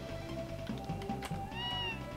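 A cat meows in the retro role-playing game Tales of Phantasia, a short rising and falling call heard toward the end over a steady looping background music track.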